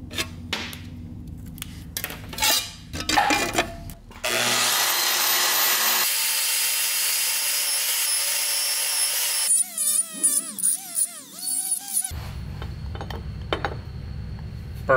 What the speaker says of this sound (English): let's weld this up